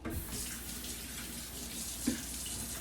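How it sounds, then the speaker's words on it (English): Tap water runs steadily into a sink while hands are washed, a constant close splashing hiss with no talking. "But not before I wash my hands."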